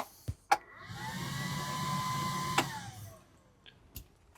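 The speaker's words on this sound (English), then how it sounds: "I have an extractor fan there" Small extractor fan in a camper van spinning up after a click, holding a steady whirring hum with a faint tonal whine for a couple of seconds, then another click and the motor winding down, close and quiet.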